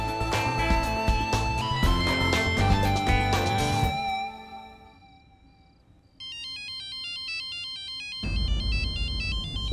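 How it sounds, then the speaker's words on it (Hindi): A phone ringtone plays a bright, repeating electronic melody for a few seconds, loud and close, with other music fading beneath it. "युवराज मुझे क्यों फोन कर रहा है?"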